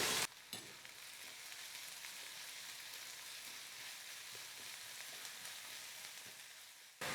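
Chopped onion and green chilli frying in hot oil in a pan, a steady, close hiss and sizzle that holds evenly throughout, alone with no voices.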